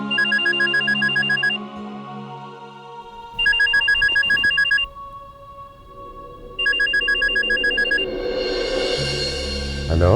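A telephone rings in bursts of bright electronic trilling, three separate rings with pauses between, loud and close indoors, with background sounds and some rustling in the gaps.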